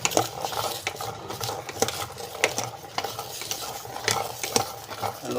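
Garlic frying in a pan before honey is added, stirred with a utensil: a soft sizzle under repeated scraping and clinking stirs at an uneven rhythm, close and moderately quiet.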